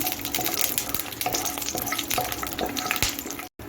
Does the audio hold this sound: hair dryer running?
no